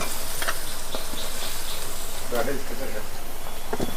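Chopped tomato and jackfruit go into a hot pan and sizzle, a steady close frying hiss with a few soft stirring scrapes and clinks; no one talks.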